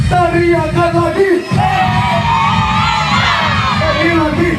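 A crowd of wedding guests shouts and cheers together at full volume, sustained and close, with drawn-out collective yells rising and holding over a dense background roar.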